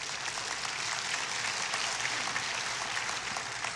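Audience applause at a patriotic celebration weekend during a guest speaker's talk, a steady, even roar of many hands clapping throughout with no break.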